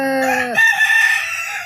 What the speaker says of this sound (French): C'est beau, non, à 16h, un coq.